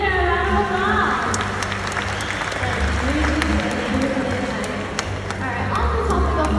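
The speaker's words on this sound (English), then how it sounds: "Let's give her a round of applause." Audience clapping at a bird talk after a presentation about an owl, a sustained wash of applause at moderate loudness with talk layered over it.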